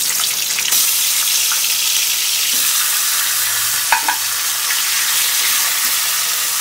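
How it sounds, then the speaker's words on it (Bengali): Hilsa fish heads, rubbed with salt and turmeric, fry in hot mustard oil in a kadai, giving a loud, close, continuous sizzle with a couple of sharp utensil clinks and no talking. "ইলিশ মাছের মাথাগুলো এবার ভেজে নেবো তেলে"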